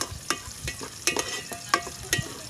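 Ingredients for chicken tinola being sautéed until golden brown in a pan on an outdoor farm cookstove, with a steady sizzle broken by several sharp scrapes and clanks of a stirring utensil.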